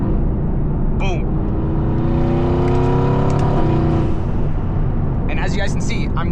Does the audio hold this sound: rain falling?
no